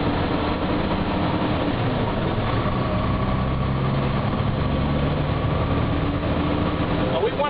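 Steady low rumble of a 1999 IHC 8100 day cab tractor engine pulling a 24-foot hopper trailer while driving and accelerating, heard from inside the cab as a continuous, even drone with a voice talking over it.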